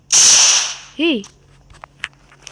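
A shotgun fires once in the Free Fire video game: a loud, sharp burst with a long hissing tail, followed by a rising tonal swoosh and a few faint clicks and ticks.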